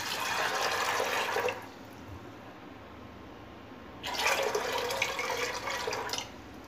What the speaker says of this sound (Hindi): अब इसके अंदर हम पानी डालेंगे।